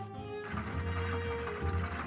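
A sewing machine stitches a dress in a Nancy Drew video game, running as a steady, even whir from start to end.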